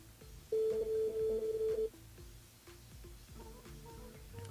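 Telephone line tones on a radio station switchboard call: a steady held tone for over a second, then shorter repeated beeps at an even pace, clear and fairly quiet, no speech.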